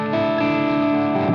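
A Schecter Banshee electric guitar through a Marshall DSL 100H head plays a light crunch tone, one sustained strummed chord ringing loud and close with mild overdrive, no talking.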